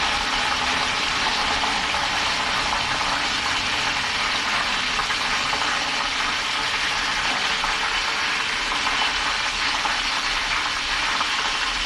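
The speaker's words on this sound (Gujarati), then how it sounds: "પાંચ મિનિટ સુધી આમ જ વેફરને તળવા દેશું" A steady, even sizzle of banana wafers frying in hot oil, continuous and unchanging throughout, with no voices.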